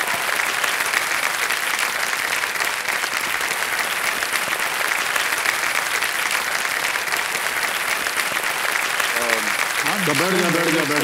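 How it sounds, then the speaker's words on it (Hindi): Studio audience on the KBC India quiz show breaks into long, sustained applause, loud and steady throughout, with a voice starting to speak near the end. "ताली बंद ही नहीं हो रही है।"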